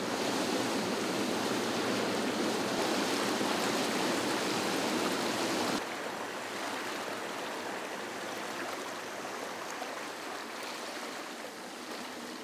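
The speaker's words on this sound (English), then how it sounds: "The water flows down the wadi to a large dam" A wadi stream in Saudi Arabia flowing down toward a large dam makes a steady broadband rush that is loud at first and a bit softer after an abrupt change halfway through.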